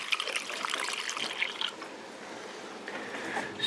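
Liquid pours steadily into the fuel tank of a pocket bike, making a continuous splashing trickle that thins out toward the end, with no one talking.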